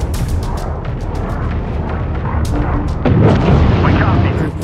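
Deep booming missile launches and rumbling blasts from the space strategy game Homeworld 3, sustained and dense throughout, swelling louder near the end, with radio-style voices talking over the battle.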